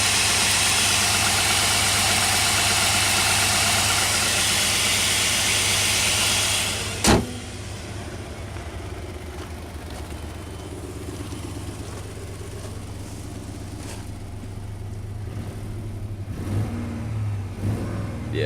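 A 3.7 liter PowerTech V6 car engine runs with a misfire, a steady loud drone that drops sharply after a sharp knock and then carries on as a quieter, uneven idle with faint mechanical clicks.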